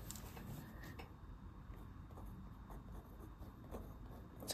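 Platinum Preppy extra fine fountain pen nib writing on paper. A faint, continuous scratchy scrape with small ticks as strokes change, quiet and close.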